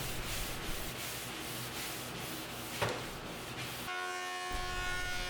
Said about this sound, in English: go over everything with an equivalent grit sanding sponge going in the correct direction with the grain